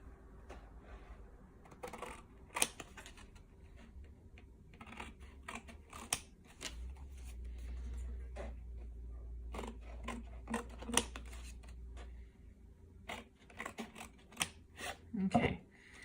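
Scattered sharp snips and crisp paper rustles as scissors cut wrapping paper, close by, with pauses between bursts and a low hum in the background.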